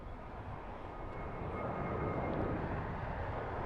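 A Frontier passenger jet's engines roar during a go-around at LAX, a broad, steady rumble that swells slightly and holds, heard without talking.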